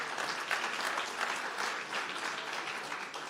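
Sustained applause fills a conference hall in New York as an award is presented to Assuta Ashdod Hospital, a dense, even wash of many hands clapping with no voices over it.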